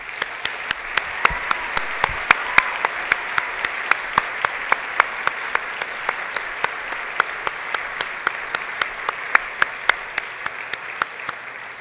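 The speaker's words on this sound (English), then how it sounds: "Let's join in giving them a big round of applause." A crowd applauding steadily, a dense wash of clapping with sharper individual claps landing at a regular pace throughout.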